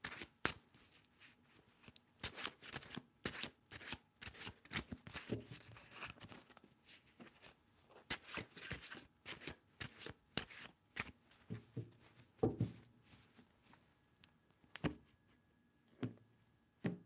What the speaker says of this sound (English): Okay, 3 shuffles, yes or no, please, for Kelly.